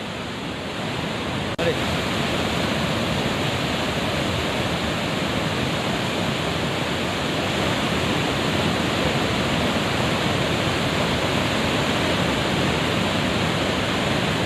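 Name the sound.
floodwater rushing through dam gates into river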